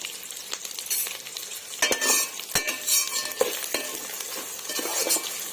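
Thinly sliced onions frying in ghee in a pan for chicken biryani, a close, lively sizzle broken by frequent scraping stirs and light clinks of a spatula against the metal.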